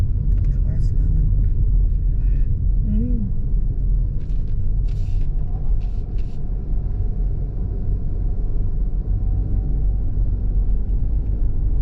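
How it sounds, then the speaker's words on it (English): A car passes on Going-to-the-Sun Road near Logan Pass in Glacier National Park, a steady, loud, low engine and road rumble filling the whole stretch with only slight swells. "Car's coming."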